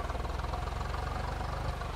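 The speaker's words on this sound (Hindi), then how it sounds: "देखो जाता उड़ता ट्रैक्टर" A tractor engine idling in the video game Farming Simulator 22 with an Indian mod, chugging in a fast, even pulsing rhythm, low and steady throughout.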